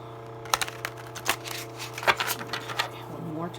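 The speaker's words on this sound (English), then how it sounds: "So I can't just shuffle them like I usually would." A deck of tarot cards shuffled by hand during a reading, giving a run of sharp, dry riffling clicks and slaps at close range over a low steady hum.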